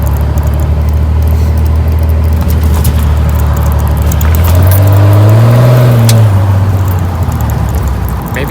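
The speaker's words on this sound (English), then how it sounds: "You can definitely hear the turbo, but I really don't think it's any louder, maybe a little bit." A third-generation Cummins diesel with the turbo silencer ring removed runs loud and close, a deep steady engine drone under a turbo whine that swells and rises in pitch midway before settling back, with no voices.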